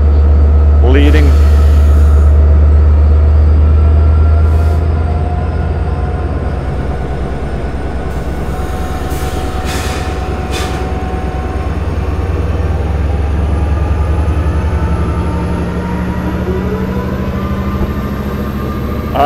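A Long Island Rail Road train led by locomotive 505 pulls out of Westhampton station, a loud, steady low engine rumble with rail noise carrying on throughout.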